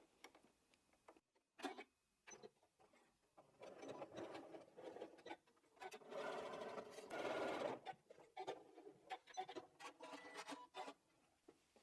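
A domestic sewing machine stitches a Dresden snowflake quilt block in short, quiet bursts of rapid whirring, broken by pauses and a brief reverse before it runs forward again.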